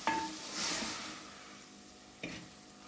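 Moringa leaves wilting in hot ghee for soup make a soft, quiet sizzle, opened and later punctuated by a sharp utensil clink against the pan.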